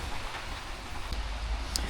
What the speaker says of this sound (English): God, it's raining. It's raining. It's raining.